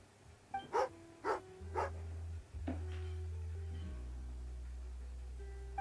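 A dog in the video game Genshin Impact gives four sharp barks in a quick run, then falls quiet over a steady low game hum.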